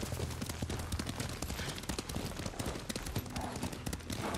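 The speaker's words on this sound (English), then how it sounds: "Lord Sakai taught me to ride a horse." Hooves clop steadily as a horse is ridden in Ghost of Tsushima, a quiet, continuous rhythmic patter of hoofbeats that runs throughout.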